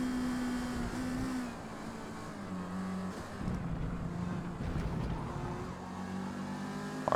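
A Mazda MX-5 racing at Silverstone in Forza Motorsport, its engine droning steadily at a fairly low pitch with shifts in tone as it works through the lap, faint and even, with no talk.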